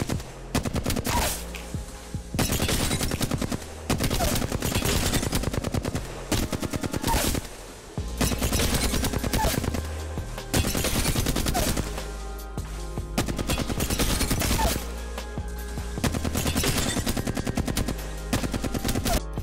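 Sustained full-auto bursts from the Flatline assault rifle in the video game Apex Legends rattle loudly and nearly continuously, broken by a few brief pauses between long strings of rapid shots.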